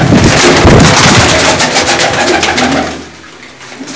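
Close pigeon cooing fills a loft of racing pigeons kept for kabootar bazi, a dense run of throaty calls that thins and fades near the end.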